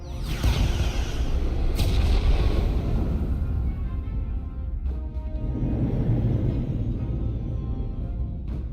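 Weapons fire and explosions between starships in the Star Trek Resurgence video game: sharp blasts and whooshing impacts early, then a sustained low rumbling roar with scattered hits, loud and close, no voices.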